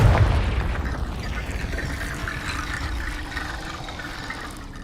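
A Confringo blasting spell in Hogwarts Legacy erupts as a loud, deep boom that opens with a sharp hit and then rolls out into a long rumbling decay.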